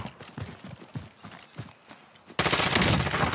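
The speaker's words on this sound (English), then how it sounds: "They're shooting at me," Gunfire rattles in a Call of Duty match as quick bursts of shots, then a louder, denser barrage of fire takes over near the end.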